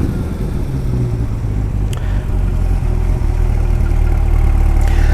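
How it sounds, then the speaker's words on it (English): A 2021 Chevrolet C8 Corvette with the 6.2-liter V8 and stock non-MPP exhaust drones with a deep, muffled idle rumble up close, rising slightly in intensity toward the end. "This is what it would sound like if you did not get the MPP tuned exhaust."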